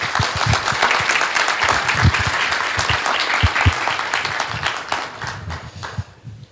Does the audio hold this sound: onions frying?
no